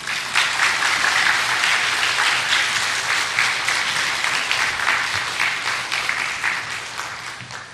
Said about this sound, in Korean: 목사님 나오실 때 다 같이 박수로 맞이하도록 하겠습니다.